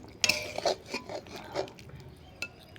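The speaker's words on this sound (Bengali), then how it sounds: "নাড়াচাড়া করব।" A utensil stirs fish curry made with pomfret, green chillies and mustard oil in a pan, giving a few soft scrapes and light metallic clinks at irregular intervals, close and quiet, with no voices.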